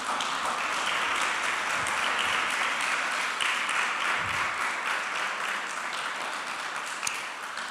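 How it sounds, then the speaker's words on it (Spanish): Congregation applauding inside a church during a sermon, a steady dense wash of many hands clapping that fills the whole stretch with no voices over it. "Dale un aplauso al Señor"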